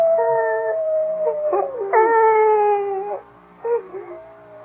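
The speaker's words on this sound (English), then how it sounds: "I think it's that howling coyote that's bothering you." Coyote howling in a radio drama: long, wavering howls rise and fall close by, with a brief pause and a shorter yipping howl near the end, heard alone without talk.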